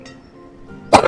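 A single short, sharp cough bursts out near the end, loud and close, after a stretch of quiet low hum during a casual commentary session on the village-building game Banished.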